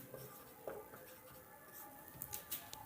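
Faint, close scratching and tapping of writing on a board during a Hindi physics lesson, a few short strokes with a quiet room behind them.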